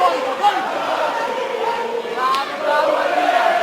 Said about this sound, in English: And the crowd here in Newport roaring in approval of Jack Shaw.